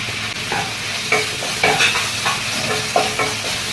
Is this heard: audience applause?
no